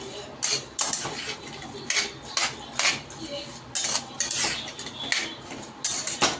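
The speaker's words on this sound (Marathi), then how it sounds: "आणि आता याला आपण शिजून घेऊया भोपळ्याला। आता याला मिक्स करून घेऊ आपण।" Pumpkin and jaggery stirred in a metal pot, giving sharp, repeated clanks and scrapes of a spoon against the pot in an uneven rhythm, loud and close.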